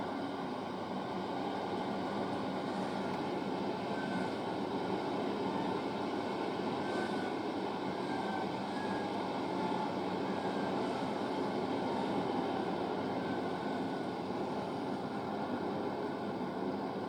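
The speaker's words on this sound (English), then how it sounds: "the next train to come past by is going to be a slow Global Demand HSC service to Cardiff Central from Paignton" An HSC passenger train passes Starcross station in Devon, its loud, continuous rumble and engine drone holding steady throughout, with faint whistling tones above.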